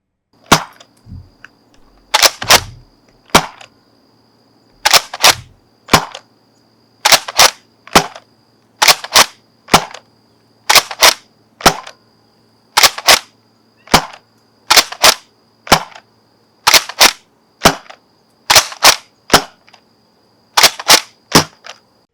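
A Nerf Pinpoint toy blaster fires over and over, each shot a sharp close snap, mostly in pairs with short gaps, loud against near silence.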